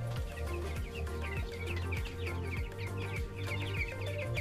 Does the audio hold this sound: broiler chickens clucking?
yes